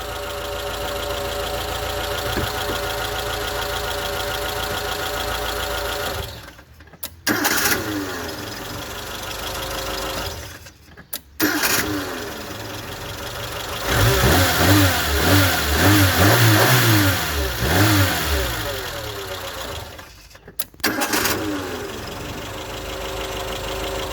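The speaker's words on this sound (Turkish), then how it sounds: "Şimdi size marşı çalışıp tekrar işte bakacağım." An engine fitted with electronic ignition is cranked and started three times, each start followed by a short spell of steady idle and then a brief pause. The engine runs loud and close, with a rougher, revving stretch in the middle.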